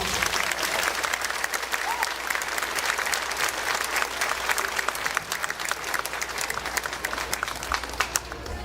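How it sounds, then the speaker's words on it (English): Sustained audience applause fills an elementary school 5th grade band spring concert hall, dense and steady throughout with a murmur of crowd noise beneath. "Let's have one more round of applause for our"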